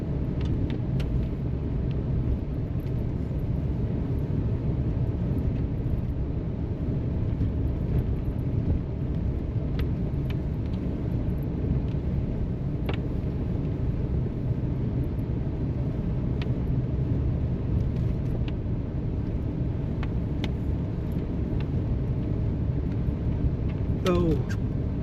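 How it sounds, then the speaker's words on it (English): A truck rolls downhill in second gear, using engine braking on a forest road after a storm, producing a steady low rumble and drone that holds constant throughout with faint rattles and crackles over it. "I'm gonna put it down in second gear and just let the truck hold us back"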